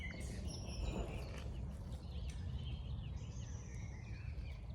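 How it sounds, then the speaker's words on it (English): Several birds chirp and whistle in the distance in the evening at a woodland campsite, over a dense, hissing background of insects or ambient outdoor noise. "Evening bird song."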